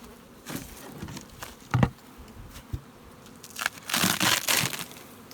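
Honeybees buzzing around hives in a beeyard, individual bees zipping close past in loud bursts over a quieter background hum, with light crunching and rustling nearby.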